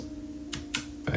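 Sharp plastic clicks from the buttons of an EP-133 sampler as pads are copied and pasted, three quick presses over a low background hum.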